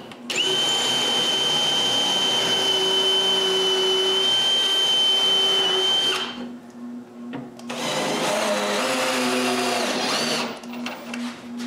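A power drill whines steadily at close range for several seconds drilling holes in a wooden kitchen cupboard, stops briefly, then bores again in a second long burst.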